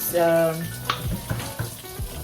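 Food spatters and sizzles in a hot pan on a home stove, with a few sharp pops and splashes over a steady frying hiss and some background noise.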